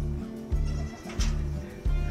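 A goat bleats repeatedly, about four wavering, nasal cries in a row with short gaps, close and loud.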